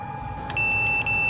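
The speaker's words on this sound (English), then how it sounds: "And it just clicked on and the beep started going, so that means our broiler also works." An electric oven range control sounds a steady high-pitched electronic beep during a broiler test, starting about halfway through and repeating closely over a low background hum.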